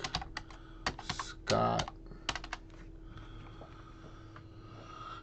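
Typing on a new computer keyboard bought with a computer, a quick run of close clicking keystrokes with a louder burst partway through, then quieter faint tapping under light room noise; someone speaks briefly.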